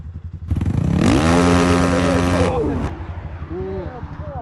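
A small moped engine revs hard, climbing to a high sustained whine before dropping back to a rough, uneven idle, loud and close.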